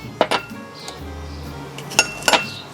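Strawberries for a mojito pounded in a small mortar, a few sharp clinking knocks spaced apart over a low dull thud, loud and close.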